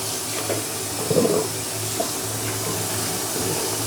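Eggs being salted are washed one at a time in water, with gentle close sloshing and splashing and a brief louder splash near the middle.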